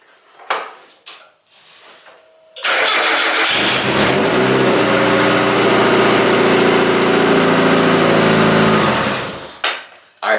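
A project wagon's engine cranks and catches at about 2.5 s after a few clicks, then idles with steady revving, loud and close, for around seven seconds before shutting off.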